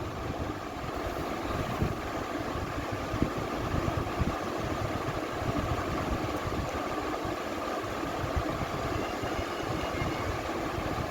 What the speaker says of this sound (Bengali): মাছটাকে 2-3 মিনিট এক পিঠ করে ভেজে নেব।